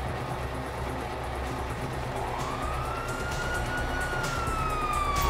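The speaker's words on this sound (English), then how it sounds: "Hear that? Sirens!" Police sirens in the video game GTA 5 wail over a dense background of game noise, with a rising siren tone sweeping in around midway and growing louder toward the end.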